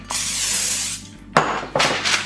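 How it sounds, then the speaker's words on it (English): Two long hissing bursts of cooking spray onto a pan, close up, with a short pause between them and a faint clink at the start. "I'm going to spray it with a little cooking spray."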